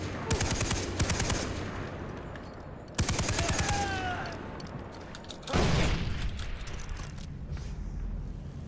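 Bursts of LMG machine-gun fire in the video game Far Cry 3, loud rapid volleys at the start, around three seconds and again near six seconds, with clattering game sounds and ambience in between.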